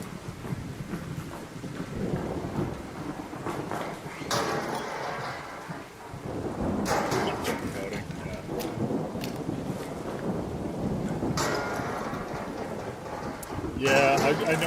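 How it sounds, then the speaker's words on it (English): An electromagnetic storm rages in a video game, with rumbling thunder bursts and sharp crackles over steady rain-like noise, while a voice talks through much of it. "an electromagnetic storm is currently raging over hillside"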